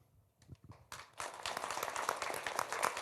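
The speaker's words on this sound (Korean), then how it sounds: "앞서 발표해 주신 주부께서 박수를 상당히 크게 쳐주셨습니다" Applause from an audience at a government public policy forum, with one housewife clapping especially loudly; a few scattered claps come first, then close, dense clapping takes over after about a second and keeps going steadily.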